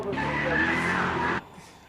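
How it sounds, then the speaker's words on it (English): Drift car sliding up a hillclimb course, a loud, sustained tire squeal with engine noise lasting just over a second before cutting off abruptly, leaving quiet background. "do an edit of the drift cars going up the hill"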